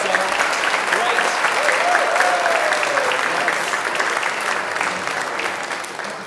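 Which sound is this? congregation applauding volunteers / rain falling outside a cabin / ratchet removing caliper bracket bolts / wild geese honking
congregation applauding volunteers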